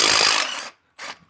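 A short burst from a small DeWalt cordless power tool, likely an impact driver or drill, working on a Toyota 7M-GE engine during head gasket teardown: a loud whir of about 0.7 seconds, a brief pause, then a shorter second burst.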